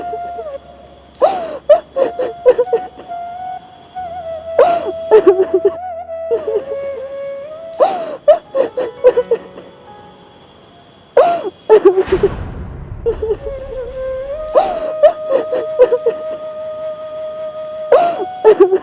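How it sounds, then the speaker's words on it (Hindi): Someone cries in repeated gasping, wavering sobs that come in short bursts with pauses between them, heard close over a steady background tone. "किसी के रोने की आवाज़ आ रही है वहाँ से।"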